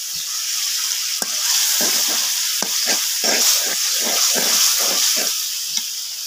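Fish roe frying in a spiced masala, with a constant bright sizzle broken by a steady run of scraping stirs, loud and close.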